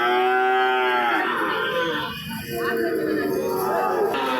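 A cow moos loudly at a weekly rural cattle market in Bangladesh, one long drawn-out low call that fades into a busy crowd hum with voices murmuring in the background.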